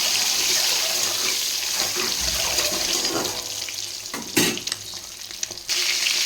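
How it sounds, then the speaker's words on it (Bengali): Eggs frying in oil in a wok (kadai), a steady broadband sizzle and crackle throughout, with brief louder spits and a few utensil knocks, close and fairly loud, no voices. "এবার আমি ডিমগুলো ভাজা হলে কড়াইতে তেল দিয়ে দিচ্ছি। তো ডিমগুলো ভেজে নিই।"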